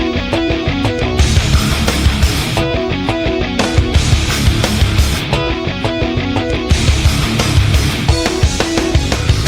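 Dense, loud modern metal recording plays back continuously, with pounding kick and snare, distorted guitars and full-band wash, alone with no talk over it.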